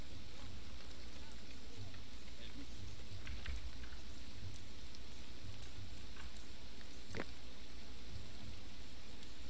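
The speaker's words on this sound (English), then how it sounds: "got a little spring rain going on" Spring rain in the village-building video game Dawn of Man, a soft, steady patter of drops heard faintly and evenly throughout.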